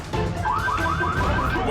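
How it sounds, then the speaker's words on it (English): A rising and falling electronic alarm wails repeatedly over a loud, rough background of commotion and noise. "When the alarm sounds"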